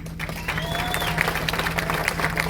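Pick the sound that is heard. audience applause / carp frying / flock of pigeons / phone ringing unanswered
audience applause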